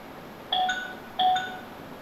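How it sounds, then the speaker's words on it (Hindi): Two short electronic bell chimes from a notification during an online maths class, each a bright two-tone ding, spaced about two-thirds of a second apart over a quiet background. "पता नहीं कहां से घंटी बजा रहे हो।"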